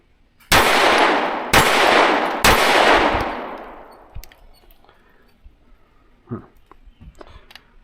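A Daniel Defense H9 pistol fires Monarch ammunition: three sharp, loud shots about a second apart, each ringing out with a long echoing tail, followed by faint clicks and handling noises.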